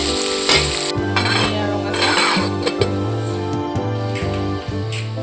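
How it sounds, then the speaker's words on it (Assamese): Onions sizzle steadily in hot oil for pakoras, with a spoon stirring and metal clinking against the pan, close and fairly loud, no voices. "গধূলি চাহকাপ খোৱাৰ কাৰণে আজি এয়া বুকে ভাজিলোঁ, পিঁয়াজ তেল দি"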